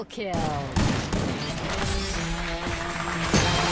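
Dense gunfire rattles through a battle royale video game match, with rapid bursts and sharp impacts stacked close together over a steady layer of game sound, continuous and loud across the whole stretch.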